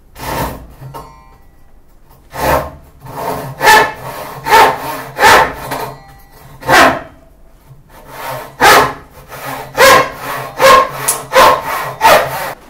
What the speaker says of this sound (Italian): andrò a provare, sempre tirando verso di me, fare il taglio appunto controvena